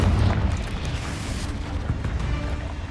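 A Confringo blasting spell explosion in the video game Hogwarts Legacy, a loud, deep rumbling boom that slowly fades away.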